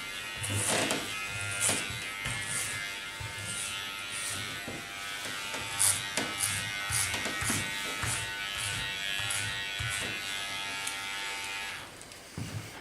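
An electric hair clipper with its comb guard removed buzzes steadily while cutting a short pixie haircut, a close, continuous hum with small shifts as it passes over the hair.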